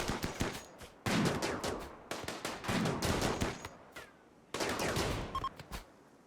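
Rapid bursts of gunfire from a fight at a firing station in the video game Rimworld, coming in several dense volleys separated by short pauses, loud and crackling with no talk over it.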